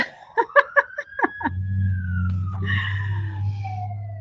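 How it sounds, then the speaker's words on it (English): A few short voiced sounds give way to a fire engine's wailing siren, steady and sustained at a moderate distance, slowly drifting in pitch. "listen to a beautiful siren, maybe."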